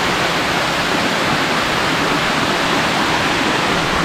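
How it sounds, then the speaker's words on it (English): Jones Falls, a waterfall on the Appalachian Trail, roars as a loud, dense and unbroken rush of falling water, heard up close with no voices over it. "First legit waterfall and Appalachian Trail, Jones Falls, did not disappoint."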